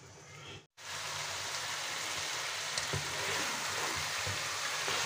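Broiler chicken curry being sautéed and stirred in a pan in a Bangladeshi home kitchen, a steady dense sizzle after a brief break, even and fairly close, with no talking.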